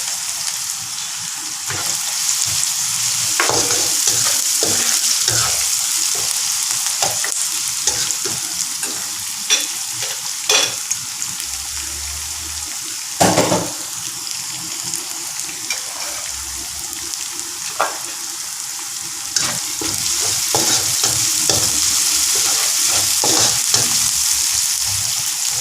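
Onions and green chillies sizzling in hot oil in a pan for mee goreng, a constant bright frying hiss broken by frequent scraping and clattering stirs from a spatula, with no talk.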